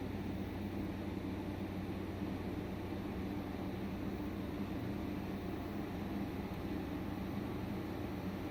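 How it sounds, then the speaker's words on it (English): An air conditioner compressor in an off-grid solar setup runs as a steady, low, droning hum with a constant broadband whir, unbroken and even for the whole stretch, with no voices. "And the AC compressor is running."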